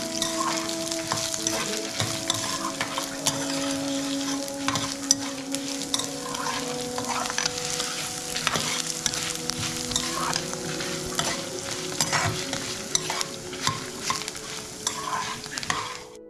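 Dried red chillies crackle and sizzle steadily in hot oil, with frequent scraping and stirring sounds from a spoon against the pan.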